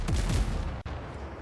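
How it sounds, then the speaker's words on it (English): Ship cannons firing on the deck of a sailing ship in the game Windrose, a couple of heavy booms at the start with rumbling low tail, then a sharp cut and continued low rumble. "For offense, you can shoot the cannons like this."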